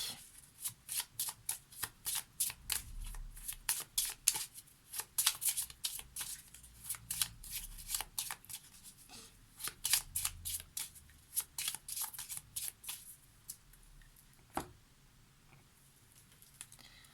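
Tarot-style Lenormand cards being shuffled by hand for a reading, a long run of crisp rapid riffling and flicking close up, with a few louder taps near the end, no talk.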